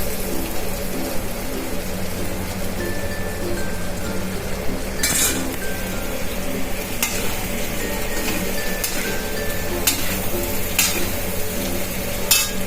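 Garam masala stirred into hot oil in a pan for a pahuva bateka dish gives a constant loud sizzle, with occasional sharp spoon clinks against the metal.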